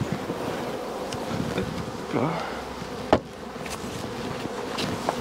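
A populous honeybee colony hums in a dense, steady buzz as the hive is opened, close and continuous, with a sharp click partway through.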